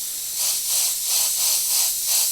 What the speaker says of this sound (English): So now if I spray over the top with some cerulean blue